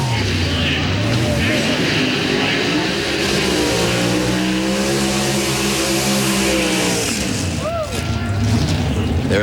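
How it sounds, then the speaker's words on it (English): Pro Stock drag race cars at the 2005 NHRA Gatornationals in Gainesville doing side-by-side burnouts: a loud, continuous, close engine roar whose revs climb and hold, then drop sharply near the end before surging again. "the side-by-side burnouts between Jason Lyon in the left lane, Dave Connolly in the right lane."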